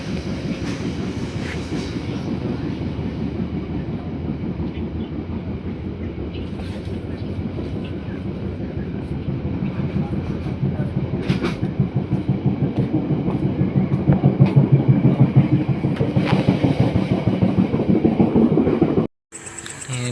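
Commuter train riding at night from Merak to Depok, a loud continuous rumble with rhythmic clickety-clack of wheels over rail joints, building slightly louder before a sudden brief cut near the end.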